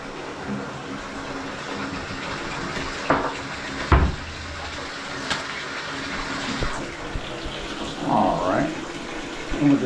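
Water running steadily from a bathtub faucet into the tub during a leak test, a continuous splashing rush with occasional thumps and clatters nearby.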